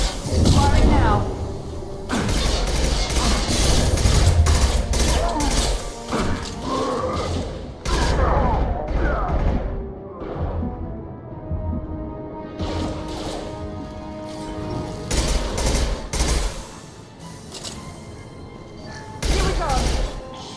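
Gunfire from the Mass Effect video game crashes out in heavy bursts and thumps across a long stretch of combat, loud and close, with people talking over it and brief quieter gaps between volleys.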